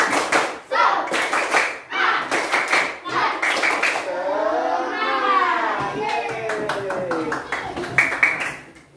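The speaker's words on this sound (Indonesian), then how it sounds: "Sekarang kita melakukan tepuk semangat ya, semuanya berdiri" Schoolchildren stand and perform a rhythmic spirit-clapping routine in a classroom, bursts of sharp group claps in patterned sets, with a teacher and children's voices chanting and talking between and over the claps.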